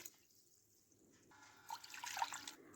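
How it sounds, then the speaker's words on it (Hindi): Water is poured into a bowl of raw chicken drumsticks while they are being washed, a soft splashing trickle that builds toward the end, close and fairly quiet, with no talking. "अब हम इसमें डालेंगे पानी और अच्छी तरह से इसमें पानी डाल दें।"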